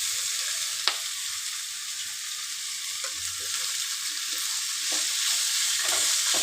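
Cauliflower sizzling steadily in hot oil in a pan with coriander powder, a constant bright frying hiss with soft scrapes of stirring, close and alone.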